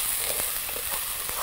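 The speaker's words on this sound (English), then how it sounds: "You want to hear that sizzle when you pour those onions in" Onions sizzle in a hot skillet, a soft continuous frying hiss with small crackles and pops, brief and fairly close, no voices over it.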